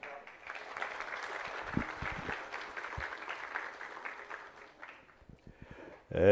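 A crowd applauds steadily for several seconds, the clapping fading out before a loud burst of sound at the very end.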